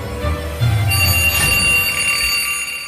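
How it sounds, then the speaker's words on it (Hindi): An alarm clock rings steadily for about three seconds, a sustained electronic tone with bright overtones and no voices, loud and close. "अलार्म से जेसन की आंख खुली।"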